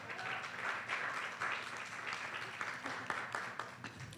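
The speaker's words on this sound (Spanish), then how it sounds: "Por favor, un fuerte aplauso." An audience at a colloquium on racial profiling in Mexico City applauds a speaker: a steady, moderately faint patter of clapping from a seated crowd, sustained throughout with small swells, heard from a distance.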